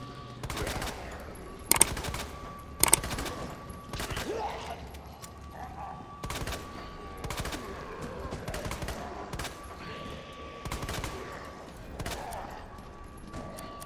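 Gunfire in the survival horror game Resident Evil 2: a series of sharp, loud shots spaced a second or so apart, with mechanical clicks between them and someone talking quietly in the gaps.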